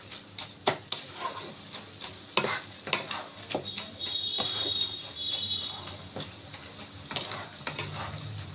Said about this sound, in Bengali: এবার একটু নেড়ে চেড়ে ভালো করে নামিয়ে দেবো।